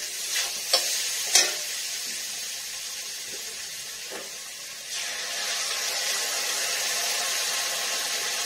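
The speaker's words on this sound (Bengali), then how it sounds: "কচুগুলো হালকা একটু না ভাজলে না মশলা টসলা কিছু ঢুকবে না," Taro pieces fry lightly in a pan, giving a steady close sizzle, with a few sharp spatula clacks and scrapes of stirring early on, then the hiss swelling slightly; no talking.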